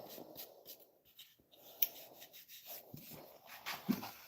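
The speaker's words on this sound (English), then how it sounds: "Another 2-3 hours of sanding." Rhythmic scratchy rubbing of sandpaper on wood in bursts with short pauses, fairly quiet and close.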